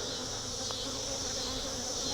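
Honey bees buzzing at a hive, a dense continuous droning hum from many insects close by, steady and even with no voices.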